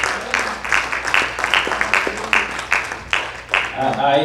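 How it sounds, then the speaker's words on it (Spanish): A church congregation claps rhythmically in steady, even beats, loud and close, with a voice briefly heard near the end. "Vamos a dar un fuerte aplauso a Rey de Reyes."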